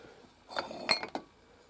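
Glass jars of beaver tail oil clink together in a few quick, bright knocks close by, with a louder cluster in the middle and quiet before and after.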